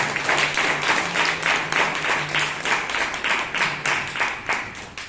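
A small audience at a Toastmasters meeting in Bangalore claps for a speaker: a close, steady round of hand claps with a rhythmic pulse, lasting several seconds with no talk over it.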